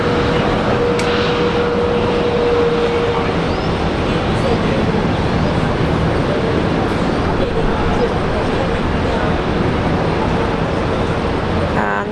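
A Rex airliner taking off from Brisbane on a short flight to Toowoomba, a loud, steady engine roar holding throughout, with a voice talking over it.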